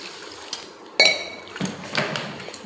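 Parboiled rice set to soak in a metal pot: a bright clink of the pot, then light knocks and a short wet pour of water and grains, close by.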